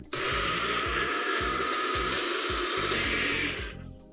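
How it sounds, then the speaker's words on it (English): Vegan cheese sauce made with paprika whirring in a compact blender: a loud, steady motor drone with a rhythmic low churning pulse as the contents circulate, running for several seconds before cutting off, no talking. "We're gonna blend this up and do a little taste test here."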